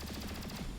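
Rapid automatic gunfire from a breaching firefight in XCOM Chimera Squad, a steady string of quick shots at even volume lasting under a second, with no talk.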